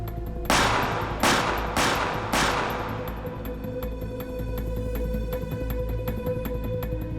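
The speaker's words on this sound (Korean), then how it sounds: "갑자기 서울 한복판에 4발의 총성이 울려 퍼졌습니다." Four loud pistol shots ring out in quick succession in central Seoul on a Sunday afternoon, each a sharp crack with a trailing echo, followed by a lingering low hum.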